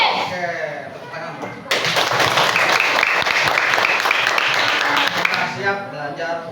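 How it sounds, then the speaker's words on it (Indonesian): A class of students in a classroom bursts into loud, dense applause for about three and a half seconds, preceded and followed by voices talking. "Oke, tepuk tangan."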